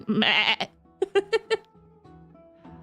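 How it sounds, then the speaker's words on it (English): A tiny fire sheep in Honkai: Star Rail bleats, one drawn-out cry followed by a quick series of four short bleats, clear and close with soft game tones after. "A tiny fire sheep."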